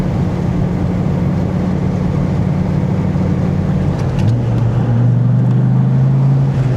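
A 2003 Dodge Viper engine drones loud and steady while driving with the top down, its low rumble shifting pitch partway through as the revs change.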